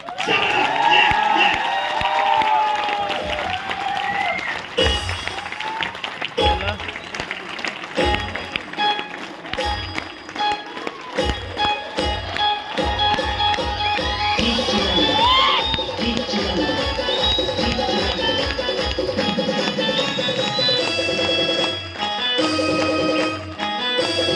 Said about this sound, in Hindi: आप लोग की जबरदस्त तालियों के बीच में